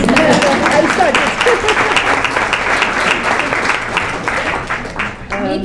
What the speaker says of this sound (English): Maybe deserved an applause, maybe not.